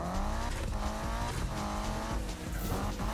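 A racing car engine in the video game Need for Speed drones at high revs with a steady whine, and tires squeal briefly as it corners.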